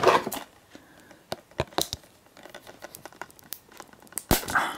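Scissors snip and cut through the packaging of a Prototype 2 Blackwatch Limited Edition game. Quick irregular clicks and cuts mix with crinkling plastic and paper, close and fairly loud.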